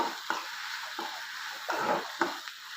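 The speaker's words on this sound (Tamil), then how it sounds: "நல்லா வதங்கி வரட்டும்" Food sizzles and crackles in a hot pan as tomato, coriander and green chilli sauté, with intermittent scraping stirs punctuating the steady frying hiss.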